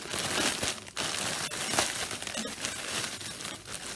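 Close, steady crinkling of a plastic pouch being opened during a secret-canvas unboxing, with a few sharper rustles and no voices.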